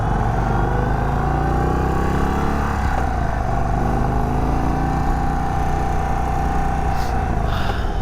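An Indian Chief Dark Horse Bobber motorcycle with a Stage 1 upgrade accelerates hard in sport mode, a loud continuous engine roar climbing in pitch through the gears with heavy wind rush, heard up close from the rider's position.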